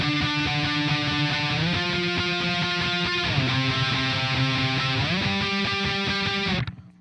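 Sustained electric guitar chord strummed over and over with a slight shift in pitch partway through, loud and close, then cut off abruptly.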